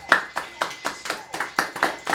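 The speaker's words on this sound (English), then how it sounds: "give yourselves a round of applause" Audience applause at a live radio show: about ten sharp, evenly spaced claps in a quick steady rhythm, close and fairly loud, with no other sound.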